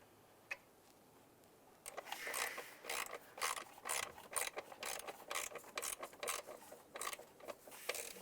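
A ratchet drives a bolt on the intake manifold of a 2011-2019 Ford Fiesta, making a steady run of close, rapid clicking that goes on for several seconds after a brief quiet start.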